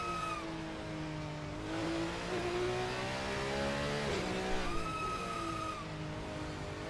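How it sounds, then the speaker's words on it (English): Racing video game car with engine whine rising and falling and brakes squealing as it slows, steady and close, with the in-game audio playing alone. "I hate the sounds of those brakes."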